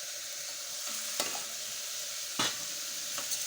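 Tomato with salt, turmeric and sugar fries in a pan, a steady sizzle broken by a few sharp scrapes and knocks of a spoon stirring, close and alone with no voices.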